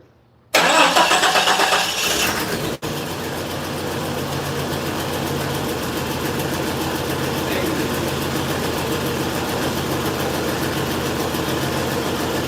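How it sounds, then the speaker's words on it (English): A Jeep Cherokee XJ 4.0 with a swapped engine cranks briefly, fires, and settles into a loud, steady idle close by. "We're gonna try to see if this Jeep's gonna start."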